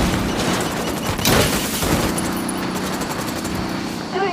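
Gunfire erupts in the tactical shooter Ghost Recon Wildlands, a dense continuous rattle of shots with a heavier burst partway through, loud and close.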